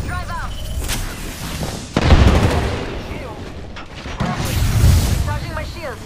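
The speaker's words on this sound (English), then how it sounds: "They're shooting at me! I'm under fire." Enemy gunfire striking a player's shield in a video game: bursts of loud booming shots and impacts, with a heavy blast near the middle, over game chatter and electronic chirps.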